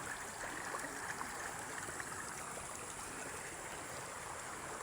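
Floodwater rushes past in a steady, broadband roar, loud and continuous throughout with no voices, like a swollen stream surging close by.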